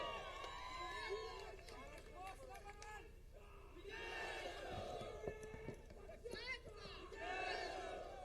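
Crowd at a Congress political rally in Marathwada, Maharashtra, loud rising cheers and shouted slogans from many voices, with a speaker heard over the excited clamour.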